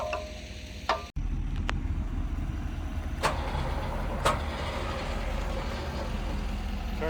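The engine of a stuck Kubota skid steer runs with a steady, fairly loud rumble throughout, with a sharp cut near the start and a few brief higher-pitched whines over the drone.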